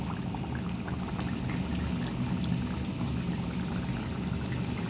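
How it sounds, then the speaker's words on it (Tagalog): Bicol Express, a pork dish, boiling in a pan in a home room, with a steady dense bubbling and sizzling crackle that stays close and constant throughout, with no talking. "Bicol Express, kumukulo."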